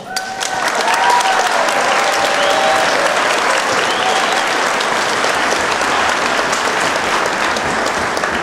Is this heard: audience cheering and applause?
yes